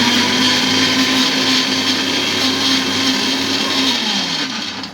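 Mixer grinder running at home, a loud steady motor whir with a strong hum that holds for several seconds and then drops in pitch as the motor begins to wind down.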